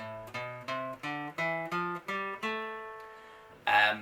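Single plucked guitar notes climb one by one in an even Aeolian natural minor scale, the last note left ringing before a quick strum at the end.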